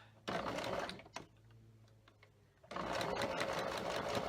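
A sewing machine stitches quilt pieces for half square triangles in two continuous bursts, separated by a quieter pause with faint handling clicks.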